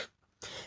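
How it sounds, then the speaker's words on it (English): A person coughs in a short, close burst, one quick hack followed by a louder, rougher cough. "That's just me coughing."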